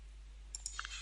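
Computer keyboard keys tapped during software configuration: a handful of quick, light clicks in close succession over a steady low hum, near and fairly faint.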